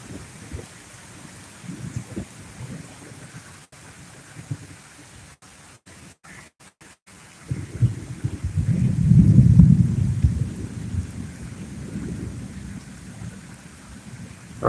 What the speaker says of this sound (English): The rain is in and out, in and out, in and out.